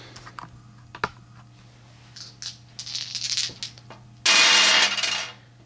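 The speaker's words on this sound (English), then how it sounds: "I'm going to roll 3 more dice" Several dice rattled and tossed onto a tabletop during a Sutakku board game, with sharp clicks and clatters building to a dense burst of rolling near the end, close and loud.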